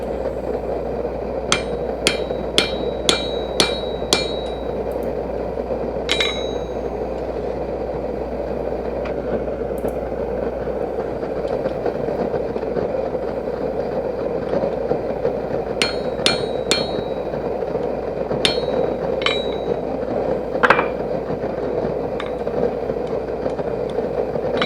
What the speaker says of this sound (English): Off with my cutoff chisel.